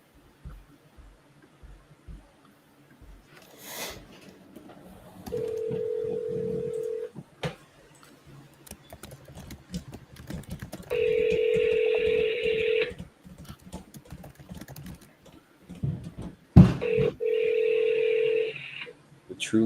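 Phone dialing tones while placing calls, with several sustained paired tones separated by clicks and handling noise, fairly close and clear.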